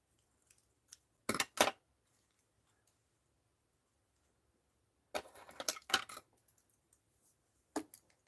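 Scissors snip through dyed fabric thread work in a few close, sharp bursts, a quick double cut near the start, a longer cluster of snips later and one final snip, separated by quiet pauses.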